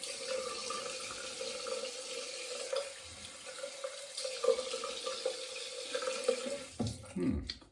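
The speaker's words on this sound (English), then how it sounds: "Sorry, just rinsing off." Running tap water pours steadily into a sink as someone rinses off, a close continuous splashing stream with small shifts as hands move through it, ending in a brief squeak near the close.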